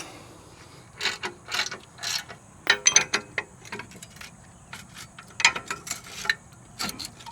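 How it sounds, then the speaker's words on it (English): Metal tools clack and ratchet in short irregular bursts as a socket on an extension is used as a cheater pipe on a brake bolt of a Chevrolet Tahoe, close up with quiet pauses between. "So I just took my extension and a socket that'll fit over the end of it. Makes a real quick cheater pipe."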